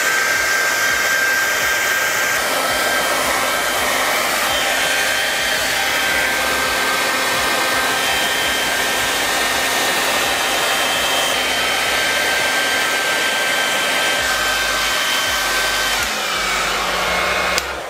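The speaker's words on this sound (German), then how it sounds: "mit einem kleinen Föhn dann nochmal nachgeholfen" A small hair dryer blows steadily at close range while heating a vinyl skin on a smartphone to wrap its rounded edges, a loud continuous whooshing hum with a slight change in pitch near the end and no talking.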